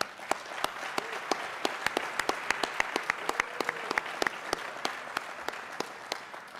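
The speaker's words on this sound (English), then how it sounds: "Let's give another round of applause for our president." An audience at Buffalo State College's 150th anniversary celebration gives the college president another round of applause, with distinct individual hand claps standing out in a quick, uneven rhythm over a steady bed of crowd clapping.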